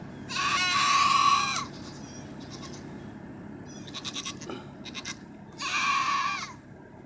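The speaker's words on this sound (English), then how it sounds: "Alright, you've heard of yelling goats before?" A goat standing out in the rain screams repeatedly, loud harsh human-like yells in two long bursts with shorter bleats between them, close by over faint rain.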